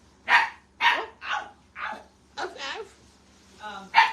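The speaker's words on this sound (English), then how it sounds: "Are you barking at Wanda?" A dog barks repeatedly in sharp, close bursts, about seven barks with short pauses, some ending in a higher yip.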